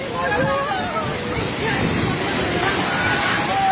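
A flooding river in Nepal rushes past in a broad, continuous roar with wind buffeting the microphone, while people talk and call out anxiously nearby.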